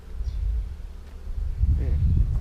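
Honey bees buzzing at an open hive box during a beekeeping inspection, a steady low hum that swells louder near the end, close by, with no talk.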